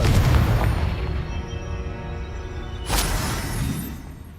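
Confringo spell explosion in Hogwarts Legacy: a loud fiery boom opens, then a rumbling decay, and a second sharp burst erupts near the three-second mark before fading.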